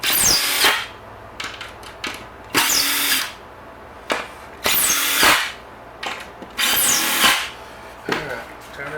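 A power drill drives screws into wooden Christmas yard art in four loud, separate bursts, each short and whining, with quiet pauses between them.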